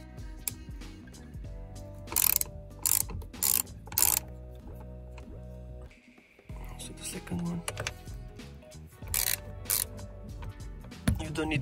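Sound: loosening airbag screws with a T30 driver, Audi A4 B8

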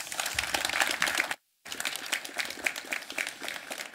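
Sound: audience applause for speaker

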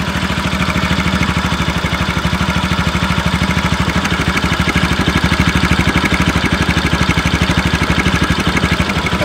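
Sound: Bajaj Pulsar RS200 stock exhaust idling

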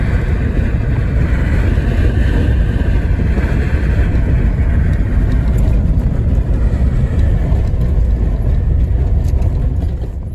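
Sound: junk removal truck driving into the dump

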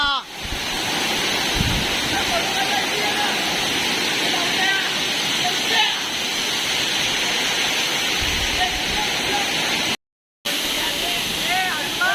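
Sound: Navlai Devi waterfall in Konkan

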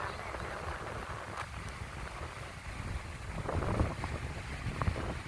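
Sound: wind blowing on a beach at Hua Hin

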